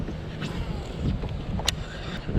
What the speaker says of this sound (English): It's just impossible with this wind right now.